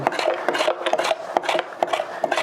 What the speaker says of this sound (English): And instantly you have sliced celery. Consistent slices.